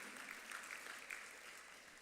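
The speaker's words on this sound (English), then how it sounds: "You can clap them" Forum attendees at an agri-business investment event clap for a hardworking team, a faint, even spread of applause lasting a couple of seconds with no talk over it.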